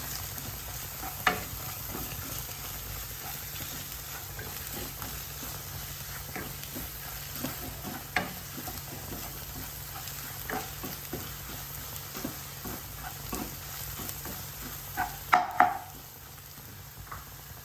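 Coriander and Kashmiri chili powder are stirred in a pan of frying onions for a green gram dish, a soft continuous sizzle under repeated light scrapes and taps of a spoon, with a couple of sharper clinks near the end.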